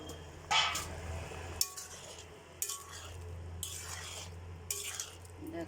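Vegetables and paneer cook in a pan, with a quiet sizzle underneath and intermittent clinks and scrapes of a spoon stirring against the metal.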